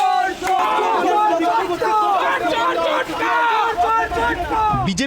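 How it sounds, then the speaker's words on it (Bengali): A protest crowd chants "thief, thief" slogans at a man summoned to a police station over a housing-scheme scam, loud and close, with many voices shouting together in steady repeated bursts over a dense background of babble. "তাকে ঘিরে ওঠে চোর চোর স্লোগান।"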